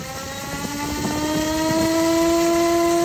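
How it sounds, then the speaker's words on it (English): An eBee drone whirs through a pre-flight aileron control test, its motor and servos giving a steady tonal whine that climbs and holds, with brief chattering bursts early on. "It's just running through, make sure it can control all the ailerons and everything."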